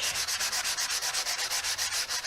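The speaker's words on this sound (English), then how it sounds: "just take my sanding block and just run it along the edge" Steady rhythmic rasping of a sanding block rubbed back and forth along a paper card edge, close up, about a dozen even strokes with no talking.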